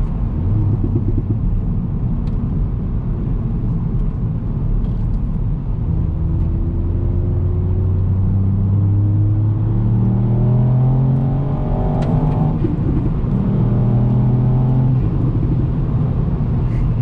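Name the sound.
Ford Fiesta ST car accelerating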